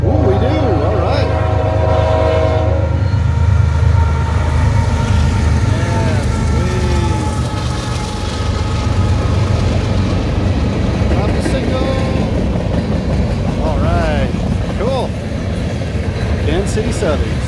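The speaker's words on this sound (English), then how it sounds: "Let's see if we got a good locomotive here today." A CN and KCS freight train lash-up passing in Schoolcraft, Michigan: loud, steady locomotive engine rumble and rolling wagons fill the clip, with the horn sounding in repeated blasts throughout, near and dominant.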